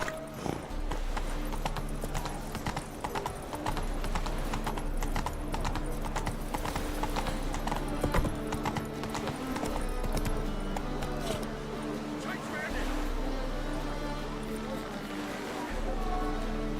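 Horse hooves clip-clop steadily in The Witcher 3, riding through Novigrad at a brisk, continuous trot. A rider's voice and other background game sounds are heard alongside.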